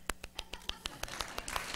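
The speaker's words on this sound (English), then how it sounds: "That's one of the spots you're supposed to clap." A church congregation claps in steady rhythm, with evenly spaced claps about four per second, fairly faint and a little distant.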